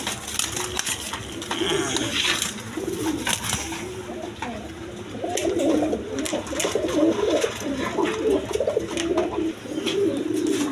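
Several pigeons of different breeds, kept for sale, coo steadily in a loose overlapping chorus, fairly near and continuous throughout, with some low background chatter.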